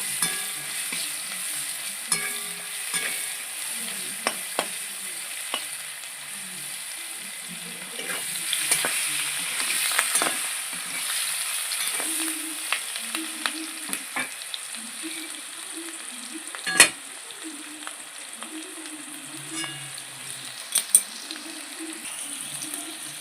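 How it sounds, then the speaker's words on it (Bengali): Onion frying together with potatoes in a pan, a steady close sizzle under repeated stirring scrapes and occasional sharp clinks of the spatula against the pan. "পেঁয়াজটা একটু লাল করে ভেজে নেব আলুর সাথে একসাথে"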